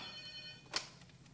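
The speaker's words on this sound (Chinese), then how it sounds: "你哪会要接电话啦？" A telephone rings in a domestic drama scene, a faint high electronic trill followed by one brief louder click or knock, quiet and without speech.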